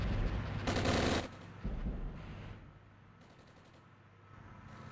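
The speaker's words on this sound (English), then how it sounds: "Taking artillery fire." Heavy battlefield gunfire and blasts in the Armored Brigade war game, with a loud dense burst near the start, a second strong burst shortly after, then quieter rattling fire continuing in the background.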